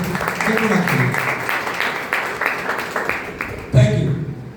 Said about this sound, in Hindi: मैं चाहूंगा कि अब तक की सबसे जोरदार ताली हमारे डेंटल